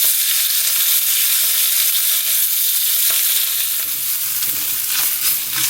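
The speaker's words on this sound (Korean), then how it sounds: "버터가 반 정도 녹고 나면 시금치 넣고 이제 볶아주세요" Spinach sautés in melted butter in a hot pan, making a loud, dense, continuous sizzle close by with faint stirring scrapes. No one speaks.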